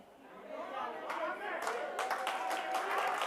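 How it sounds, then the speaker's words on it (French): Applause during a church service: clapping starts up under a speaking voice and chatter, growing into denser, louder hand claps from the congregation toward the end. "ça mérite l'applaudissement"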